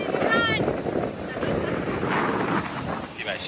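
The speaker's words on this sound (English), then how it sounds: "it's a warm day, so it's really windy" Strong wind buffeting the microphone on a large beach in Rio de Janeiro on a warm day, a steady loud rushing roar with surf-like noise throughout, with no clear talk.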